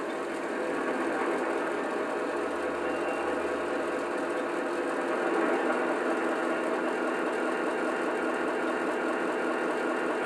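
A Centipede AA diesel locomotive engine revs up to notch 8 while its roof fans speed up, giving a steady, droning mechanical hum that slowly builds in intensity, with no talking.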